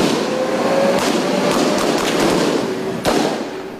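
Sporadic gunfire in a clash between an MNLF faction and government troops, with sharp cracks and pops scattered through a steady background rumble, one loud report standing out near the end.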